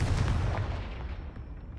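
Fiery spell explosion in the wizarding game Hogwarts Legacy, a single close, heavy boom with a deep rumble that trails off over under two seconds.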